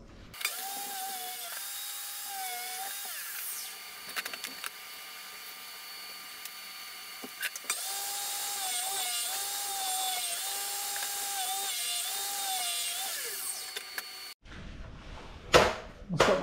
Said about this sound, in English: and then I'm going to cut them down to 2-inch planks